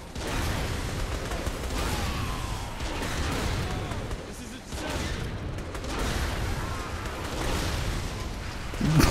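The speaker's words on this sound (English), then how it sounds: "So many explosions happening right now." Explosions and gunfire-like blasts in the Saints Row 3 video game, dense and continuous with repeated booms and rumbling bursts throughout, loud and layered under occasional game noise.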